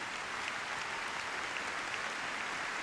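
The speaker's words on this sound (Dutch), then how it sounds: "Geef ze nog een groot applaus." A large audience in the arena at the Friesian Proms horse show applauds in a steady, even wash of clapping, moderately faint and distant, with no voices over it.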